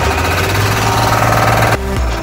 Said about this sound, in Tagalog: ito po yung blower na nagkukunik po doon sa ilalim ng tubig